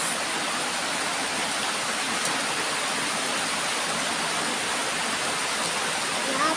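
Heavy rain pours down in a dense, steady broadband hiss, constant and fairly loud with no breaks.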